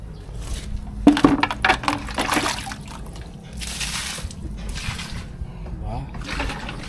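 Water poured out onto garden plants, a brief splashing and trickling near the start followed by softer dribbling, with a voice talking over much of it.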